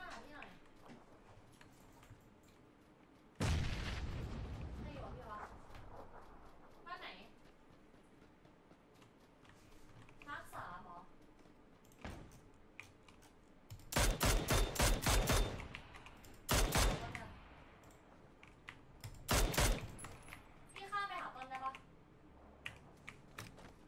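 Sharp bursts of rapid gunfire and loud blasts from a video game ring out in clusters, mixed with keyboard clatter and occasional talking.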